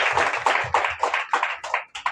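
Rhythmic hand clapping from a church congregation in praise, a steady beat of sharp claps at roughly two per second, close and moderately loud with no talking.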